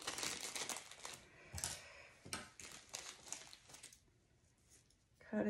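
A plastic Valentine's Day treat bag crinkles and rustles as a bow is tied onto it and the bag is fluffed out, with bursts of crackling handling noise close by that pause briefly before a louder rustle at the end.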